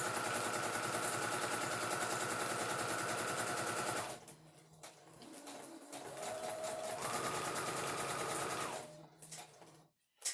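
A sewing machine stitches a fabric stuff sack in a steady, loud, rapid mechanical whir. It runs continuously for about four seconds, then pauses and starts again in shorter bursts before stopping, with no talking.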